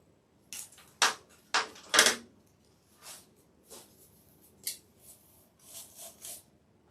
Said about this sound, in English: Cut this piece down.